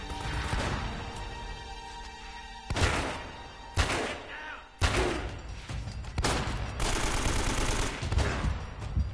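Gunfire in the game Uncharted: Drake's Fortune, with several loud bursts and single shots cracking close over a sustained noisy backdrop and some impact thuds. A faint voice may sit underneath.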